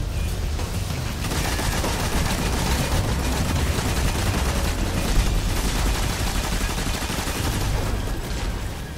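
Dense, continuous gunfire and explosions from the Destiny 2 video game, a steady loud barrage of rapid shots and booms that runs the whole time with no pauses.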